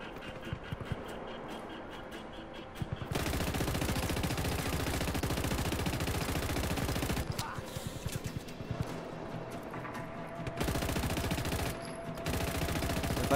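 Machine gun fire in the game Just Cause 3: long sustained bursts of rapid automatic shots, loud and close, separated by brief pauses.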